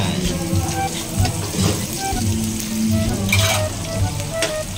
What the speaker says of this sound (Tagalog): ilalagay na rin natin ang sibuyas